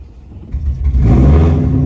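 A rebuilt 1200whp 2020 Shelby GT500 engine catches and swells into a loud, deep rumbling rev that builds quickly and holds steady, close to the listener with no talking.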